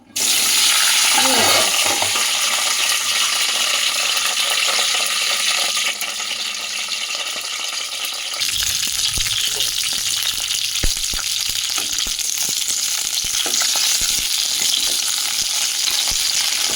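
Green chilies hit hot oil in a pan with a sudden loud burst of sizzling that stays dense and close, then shifts to a rougher, crackling spatter partway through, with no talk.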